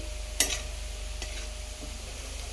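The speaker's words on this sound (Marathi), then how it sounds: "कांदा पण छान गोल्डन फ्राय करून घ्यायचा आहे" Onion fries golden in oil in a pan for a home-style tondli bhaji. A soft, constant sizzle sits under a low steady hum, broken by one sharp scrape of a spoon and a couple of fainter stirring taps.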